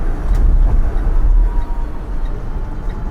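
A deep, steady engine rumble fills the interior of a Citroën Ami, loud and continuous with a low droning hum.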